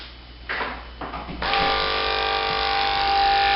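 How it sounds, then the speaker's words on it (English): Electric dog hair trimmer clicks on in a couple of short bursts, then settles into a continuous loud, steady buzzing whine up close, running alone without talk. "Now we're ready to cut. Plug in the trimmer."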